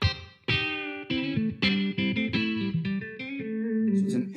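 Guitar chords played through a Peavey Vypyr Pro 100 amp with an intimate reverb setting, a series of distinct strummed hits with short, close ambience trailing each one.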